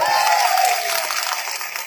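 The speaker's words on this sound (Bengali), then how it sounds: "ভারপ্রাপ্ত অফিসারের জন্য একটা জোরদার হাততালি হোক" Crowd applause and cheering for the officer-in-charge of Hasnabad police station at a public gathering, a steady dense wash of clapping that fades slightly toward the end.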